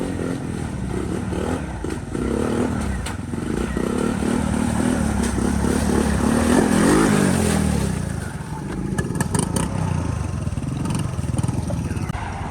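A Honda 450 dirt bike rides through a sand pit, its engine revving loudly and steadily up close with some clatter as it moves around.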